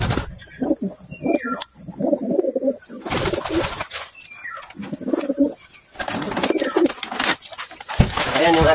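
Pigeons cooing in a rural Philippine setting, with soft repeated coos and occasional wing flaps in several bursts, close by and separated by quieter gaps.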